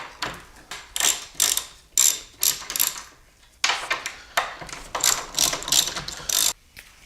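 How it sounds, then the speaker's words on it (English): A socket wrench ratchets rapidly as it loosens the 5/8 bolts on the legs of a Stern Munsters Premium pinball machine. Close, loud clicking bursts repeat in quick runs with short pauses between strokes. "First step is to get the bolts off for the legs. You're gonna need a 5/8 socket or open-end wrench."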